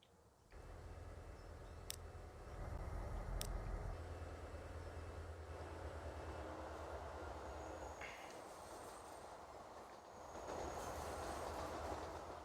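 Trains rolling through a busy city rail network in the simulation game Transport Fever 2, a steady rumble of wheels and carriages with a couple of sharp clicks, building louder midway, alone without talk.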